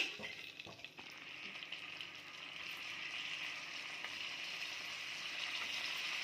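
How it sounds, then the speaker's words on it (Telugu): Steady hissing sizzle of paneer frying in hot oil, a couple of light clinks at the start, then an even crackle throughout. "ఇప్పుడు పన్నీర్ ఫ్రై చేసుకుందాం"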